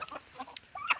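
Chickens and roosters cluck in quick, close bursts, a few short clucks and squawks packed into one second with no one talking.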